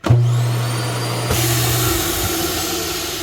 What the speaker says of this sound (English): And there is the tubing for the built-in vacuum.